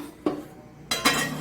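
Metal appam tin lowered into a pot of boiling water, two sharp clanks and a clink close by, heard alone without talking.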